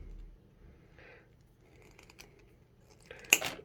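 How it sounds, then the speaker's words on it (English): Wire being cut with cutters for a small bridal headpiece circlet: a single sharp, close snip near the end, preceded by faint quiet handling. "So I'm going to cut some wire."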